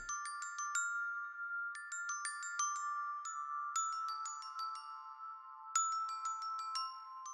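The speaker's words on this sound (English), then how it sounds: "It is the natural mallet preset from the childhood mallets." Bright synthesized mallet notes from a natural mallet preset ring out in quick melodic runs, soft and evenly paced, with clear sustained tones and no other sounds.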